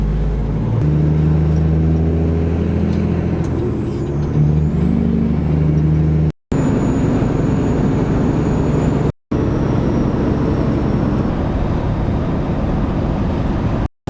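A heavy truck cruising along a highway gives a loud, continuous road and engine drone with a low hum, briefly cut off twice by short gaps.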